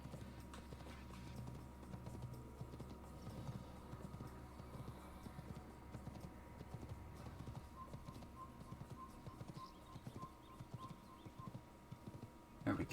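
Steady clip-clop of horse hooves trotting in an even rhythm in a video game, with a low ambient rumble underneath and faint voices.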